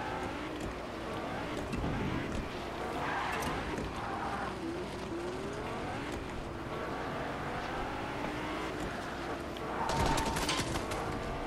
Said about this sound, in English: I'm being shot at already.